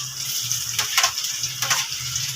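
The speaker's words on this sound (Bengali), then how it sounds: "দিয়ে দিলাম টমেটো" Tomatoes hit hot oil with fried potatoes in a pan, producing a close, steady sizzle with a couple of louder crackling bursts as they are stirred.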